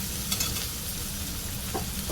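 Tomatoes with chopped mint and coriander fry in a pan for a masala tomato curry, giving a dense, even sizzle up close. Faint stirring scrapes show through it and no one speaks.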